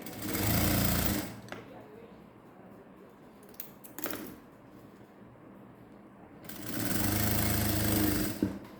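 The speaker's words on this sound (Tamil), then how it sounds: "அதை வச்சு தான் நான் இப்போ உங்களுக்கு தைச்சி காமிக்கிறேன்" A sewing machine stitches red piping onto a blouse. It runs in two loud bursts of rapid mechanical whirring with a quieter pause between them, where a few clicks and handling sounds are heard.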